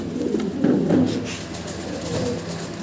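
Pigeons in a loft of breeding birds with eggs and chicks coo in low, throaty, rolling murmurs that swell and fade, close by and steady for a few seconds, with no speech.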